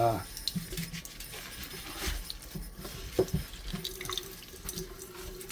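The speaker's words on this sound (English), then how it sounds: "we'll rinse it off, see what happens after 3 minutes" Tap water runs steadily into a sink while a glass butter dish is rinsed after etching, with splashing and dripping throughout and a few brief clunks of glass.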